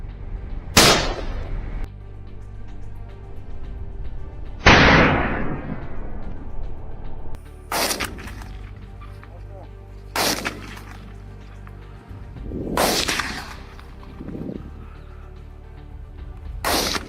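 Hunters' gunfire aimed at wild boar in South Africa: five or six sharp, loud shots spaced a few seconds apart, each trailing off in a brief echo over low outdoor background noise.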